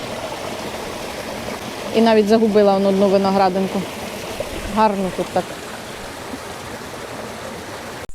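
A cold mountain spring stream flows steadily near an alpine meadow, a constant close rush of water. Someone speaks over it briefly twice.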